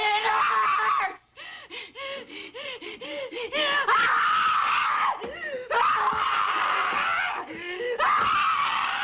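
A woman screams in pain in a crime drama, with long, loud, repeated cries broken by gasps and sobbing breaths, close and raw across several seconds.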